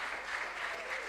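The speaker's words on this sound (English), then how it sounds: "a resounding round of applause for these contestants" Supporters at a national junior science and maths quiz championship applauding contestants, a brief, even, continuous roar of clapping from a sizable crowd.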